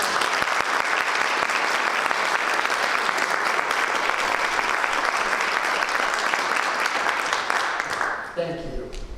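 Loud, dense applause from the audience at a college athletic hall of fame induction ceremony, honoring the athletics staff, sustained at full strength for about eight seconds before quickly fading out.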